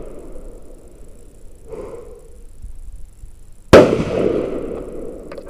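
A single sharp rifle shot from an SK Rifle Match semi-automatic rifle cracks out loud and close at an outdoor range, its blast trailing off into a rolling echo over quiet background.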